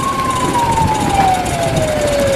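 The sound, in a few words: police car siren leading the race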